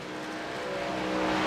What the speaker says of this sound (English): This truck sounds a wee bit slow.